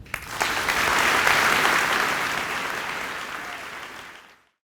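An audience at a Friday school assembly for a distinguished alumni hall of fame gives a sustained round of applause, a dense crowd of clapping that swells, holds for several seconds, then tapers off and stops.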